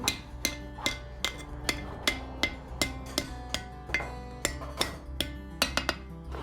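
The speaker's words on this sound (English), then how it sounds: "Using an anvil, he bends the steel back above the tip, forming it into a hook." A blacksmith hammers hot steel on an anvil to bend it into a hook, a steady series of sharp ringing metallic strikes, about two per second, close and without talk.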